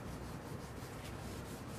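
Steady, soft rubbing and abrading, a continuous gritty hiss of wet sanding car paint with no voices.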